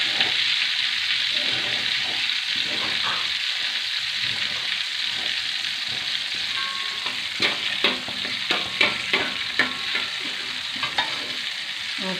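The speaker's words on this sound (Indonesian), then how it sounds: "Margarinnya sudah cair dan saya masukkan kayu manis dengan bunga lawang dulu biar aromanya naik" Cinnamon sticks and star anise sizzle in melted margarine in a pan, a steady close hiss with soft stirring clicks and scrapes growing more frequent toward the end.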